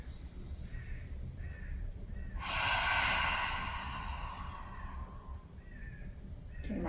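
During a yoga flow a person exhales strongly through the mouth in one long, forceful, breathy whoosh lasting a few seconds, close to the microphone, between quieter breaths.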